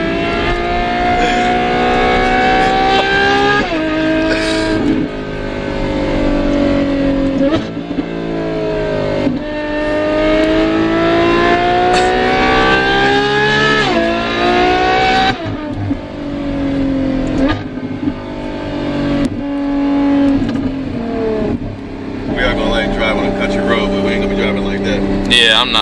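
Ferrari F12 being driven on the road toward a roundabout, its engine droning steadily with rising and falling revs throughout, with people talking inside the cabin over it.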